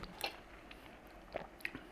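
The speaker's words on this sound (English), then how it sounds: "we've still got the crunch in this cabbage" Crunchy cabbage and velveted chicken stir-fry being chewed close up, a few quiet crisp bites and soft crunches spaced across a short moment, faint and intimate with no talk.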